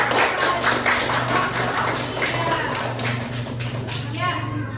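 Classroom applause from students, heard as a brisk run of claps and taps mixed with children's voices and a teacher speaking.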